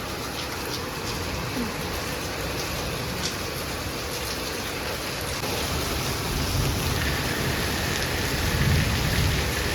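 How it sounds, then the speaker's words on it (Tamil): Heavy rain pours steadily during a thunderstorm, with low thunder rumbling beneath the downpour. The roar swells louder toward the end. "ஐயோப்பா, மின்னல் அடிக்குது."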